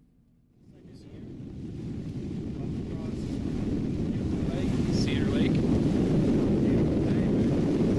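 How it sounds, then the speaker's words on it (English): Steady wind blowing across a lake while canoeing, with a rushing roar that builds over the first seconds and stays broad and constant, and a voice speaking briefly over it. "A little windy, a little chop."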